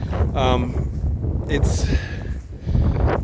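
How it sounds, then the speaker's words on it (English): Wind blowing outdoors on a farm, buffeting the microphone with a low gusty rumble and brief rustling bursts that rise and fall over a few seconds, loud and close. "I thought I'd come out here and get out of the wind, but it's not happening for me."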